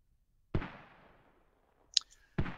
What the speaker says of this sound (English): I just heard the mortars pop off. That's three shots.